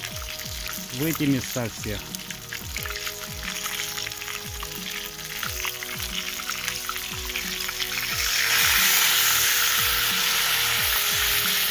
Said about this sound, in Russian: И начинаем добавлять нашу заправочку